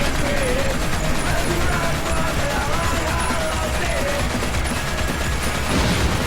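A giant propane tank blown up among swarms of enemies in the action game WET, heard as a loud, dense roar of explosions and gunfire that fills the whole stretch with sustained chaotic noise and crashing debris.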